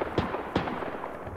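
Two sharp distant bangs from fireworks set off near a military-style airsoft engagement, spaced about a third of a second apart over a steady low background rumble, with no talk.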